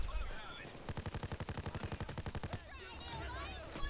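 Automatic gunfire in the video game Payday 2, a rapid, even burst of about twenty shots lasting under two seconds, loud and close, with voices talking around it.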